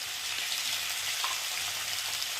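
Potatoes and mixed vegetables fry in oil in a pan, giving a steady, close crackling sizzle that holds without pause and with no talking.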